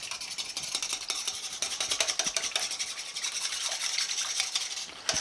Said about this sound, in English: you want to mix this very well, these 2 ingredients together right now